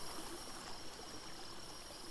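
Water flows steadily in the Saurian dinosaur game, a soft, even rushing hiss like a stream, faint and continuous with nothing else over it.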